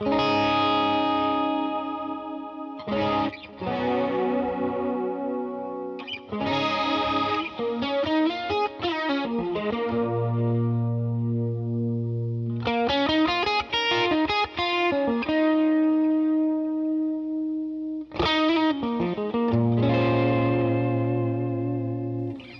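Electric guitar through a Line 6 Helix with a subtle sine-wave chorus at low mix, strummed chords and arpeggiated runs ringing out with gentle shimmer and some distortion, no voices.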